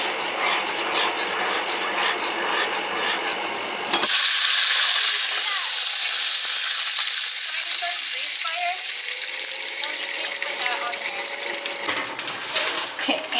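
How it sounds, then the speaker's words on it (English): Cornstarch slurry sauce for pipa tofu bubbling and sizzling in a pan, a steady broadband hiss that runs on with little change, brief clinks and a running tap appearing near the end. "Looks like it's starting to bubble."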